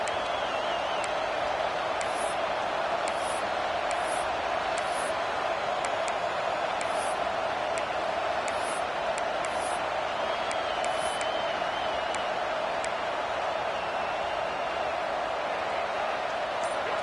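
Steady roar of a packed stadium crowd in a college football video game with LSU, a continuous dense wash of noise holding level throughout with faint higher bursts scattered over it.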